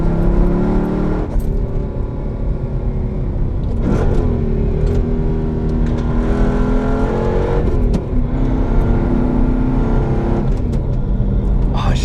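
A Mercedes C55 AMG with a manual gearbox revs hard, its engine roaring loudly with rising and falling pitch across several pulls and gear changes, heard from inside the car with a voice speaking at moments.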